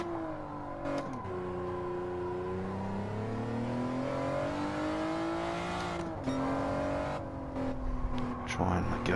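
A car engine held in third gear on a time trial, revving steadily with its pitch climbing and dipping as the driver lifts and brakes, loud and close throughout.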